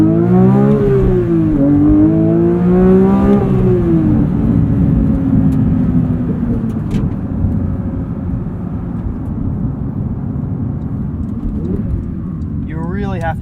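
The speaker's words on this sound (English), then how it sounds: "You really have to adapt to how high this thing revs." A 2023 Porsche 911 GT3 with a manual gearbox revs high while driving on rough Michigan roads, its loud engine note climbing and falling through several rising sweeps, then settling into a steady drone.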